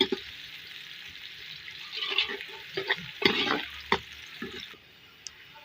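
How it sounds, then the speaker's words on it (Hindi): Onions browning in a pan for chicken with cauliflower, stirred with a spoon: a soft continuous sizzle under intermittent scraping strokes and light knocks, fading quieter near the end. "इसको ब्राउन कर रहे हैं"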